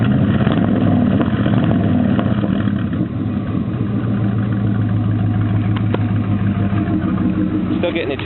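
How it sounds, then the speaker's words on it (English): A swapped-in LQ4 6.0 V8 in a 1995 Chevy Tahoe rumbles and revs up close, a deep, steady engine drone that climbs briefly and settles, with someone talking over it. "I'll put the camera down here and give you a little rev."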